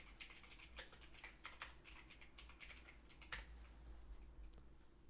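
Fingers type on a Razer Huntsman Mini computer keyboard, a quick irregular run of crisp, faint key clicks heard alone at low level.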